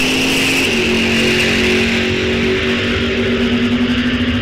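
Drag racing cars launch at Rock Falls Raceway, including a '55 Chevrolet and an Oldsmobile-powered '51 Chevy, making a loud, close, sustained engine roar with a steady droning pitch throughout.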